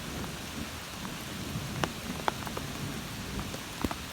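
Steady rain falls on a forest hiking trail along Seneca Creek during a thunderstorm, a dense even patter with a few sharper drop hits standing out near the microphone, no voices.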